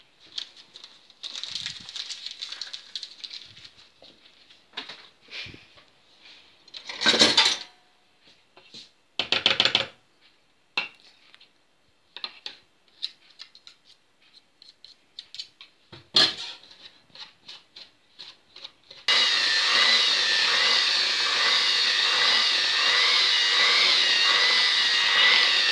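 Cake batter with baking powder being mixed for Zlevanka, an uneven series of scraping, tapping strokes with pauses, followed by a steady, loud continuous whir like an electric mixer near the end.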